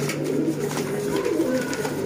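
Sialkoti pigeons, the 35 variety, coo softly and repeatedly in a short close burst, the low rolling calls alone with no talk.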